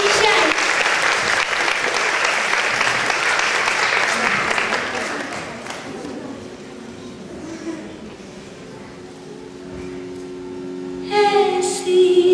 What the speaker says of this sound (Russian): Только под ваши аплодисменты